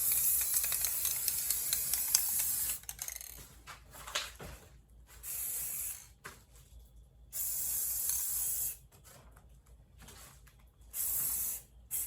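Aerosol spray paint bursting from a homemade spray paint shotgun, several loud hissing blasts of a second or two each, separated by short quiet gaps with faint mechanical clicks.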